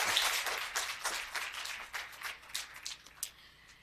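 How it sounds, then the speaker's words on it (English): A business conference audience gives a round of applause after a panel conversation, a fairly sparse, uneven patter of claps that swells and eases in loudness, with no talk over it. "Let's give them a big round of applause."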